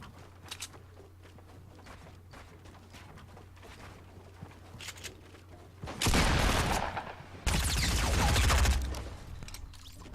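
Fortnite Battle Royale video game gunfire: two dense, loud bursts of rapid automatic shots, each lasting a second or two, after a quieter stretch of faint in-game ambience and light footsteps.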